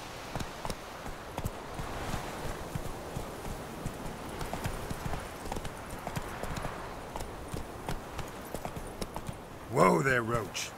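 Roach, the horse in The Witcher 3, moves at speed with a rapid, steady clip-clop of hoofbeats, closing with a short whinny as it is reined in.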